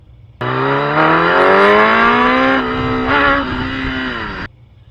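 A Kawasaki ZX10R Gen 1 motorcycle engine revs steadily upward, nearby and loud, then the rising pitch flattens and stutters midway as power cuts out, before the revs drop off abruptly; no talking.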